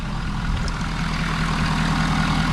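A 6.7 Powerstroke diesel pickup, just after an oil change, idles with a steady, low rumbling drone that keeps an even rhythm throughout, heard up close with no voices.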